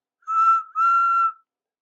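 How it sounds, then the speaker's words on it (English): A little narrow-gauge steam engine's whistle gives two clear, bright toots, the first short and the second longer, close and alone in silence. "He whistled to all his friends."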